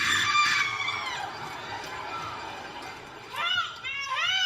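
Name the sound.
group of children screaming loudly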